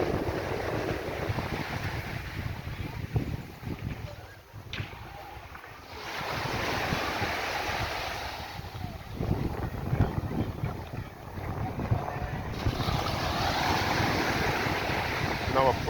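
Surf at Browns Beach on Carlisle Bay, Barbados, with waves washing in and out, heard outdoors under heavy wind buffeting the microphone and a steady broad rush that lasts throughout.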